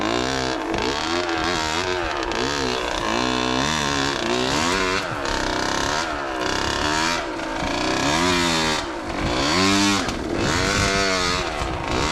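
A KTM 65 motorcycle engine revs loudly and continuously, its pitch repeatedly climbing and dropping as the throttle rises and falls.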